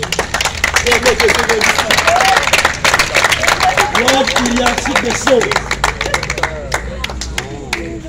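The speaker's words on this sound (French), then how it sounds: "Je veux demander d'applaudir le champion de cette 8e édition" Audience claps for the champion at a songo board game tournament, brisk clapping mixed with cheers and crowd voices, a person speaking over it before the clapping thins near the end.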